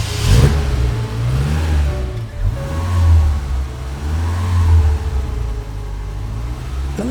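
A 1972 Fiat 128 Rally engine started by key, then revved in several rising and falling surges, a loud, close mid-range rumble carrying on alone.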